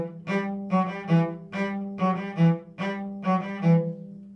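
Carol of the Bells' four-bar introduction, played alone and fairly soft, repeats its short falling four-note figure in a steady pulse, with accented notes recurring at regular intervals.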